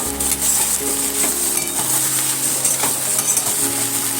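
Loud, continuous sizzle of snake gourd frying in a pan, with stirring scrapes and occasional utensil clinks against the pan.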